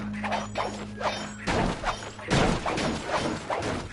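Objects breaking in the video game Sly Cooper 2, with a run of crashing, clattering smashes and thuds, two heavier bursts standing out over a low in-game hum.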